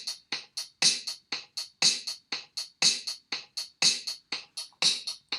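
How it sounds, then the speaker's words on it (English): A steady programmed drum loop with crisp snare hits and ticking hi-hats repeating in an even, tight rhythm. "that's my drum rhythm in place"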